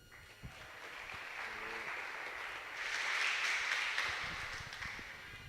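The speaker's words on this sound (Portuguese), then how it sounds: "Palmas para a mãe Esther." An audience applauding for mother Esther at a Christian youth gathering in Goiânia, a fairly quiet, steady wash of clapping that swells in the middle and then tapers off.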